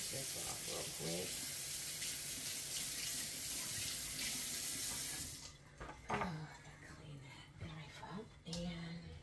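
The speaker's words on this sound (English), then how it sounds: "Rinse this off real quick." A kitchen faucet runs water hard into a sink for about five seconds, rinsing something off, then shuts off, followed by soft clatter and a voice speaking.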